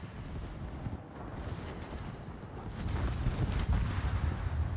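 Warship secondary guns fire in a naval battle video game, a dense, continuous barrage of booms and rumbling that grows louder toward the end.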